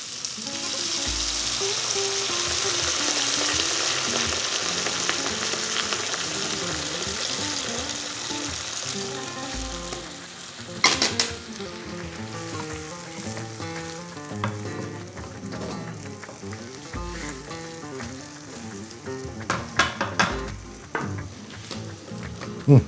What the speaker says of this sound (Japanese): さあちょっとね炒めていくとまた香りが出ますからね。